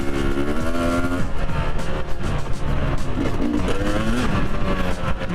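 An enduro motorcycle runs on the Sūduva motocross track in Kalvarija, its engine revving up and down in a loud, close, continuous buzz with shifting pitch, no talk.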